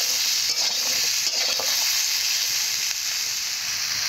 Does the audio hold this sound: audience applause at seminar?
no